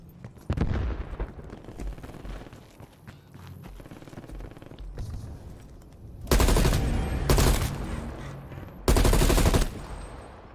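Gunfire rings out in a Call of Duty zombies outbreak game: a rumbling, rattling background with scattered shots gives way to two loud sustained bursts of rapid fire near the end, and no one speaks.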